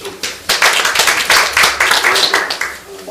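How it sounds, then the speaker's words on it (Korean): A crowd at a Korean civic group's general meeting claps in a brisk burst of applause, loud and sustained, with uneven overlapping hand claps. "보이시면 박수 한번 주십시오"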